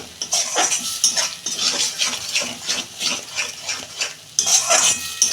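Spoon scraping and stirring pointed gourd mash in a metal pan over the heat, cooking it down until dry, with steady rhythmic scrapes and clinks and a faint sizzle, no talking.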